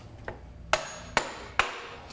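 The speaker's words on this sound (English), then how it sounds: "we can drive it home with a dead blow hammer" A dead blow hammer drives a part onto case dowels, four sharp, close thuds at a steady, unhurried pace, the first lighter than the rest, each with a short ringing tail.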